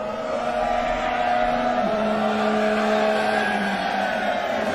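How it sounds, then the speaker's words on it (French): A Ferrari race car drives on a circuit, a steady engine tone holding pitch and then dipping slightly as it moves off into the distance, loud and continuous with no talk. "C'est allé tout au fond là-bas la voiture."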